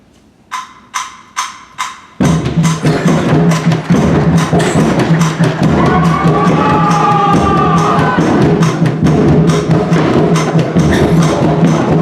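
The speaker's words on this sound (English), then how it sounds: "The crowds cheered and rejoiced" A school senior stage play crowd scene: a few sharp knocks, then a loud burst of crowd cheering and shouting voices that holds steady and close for several seconds.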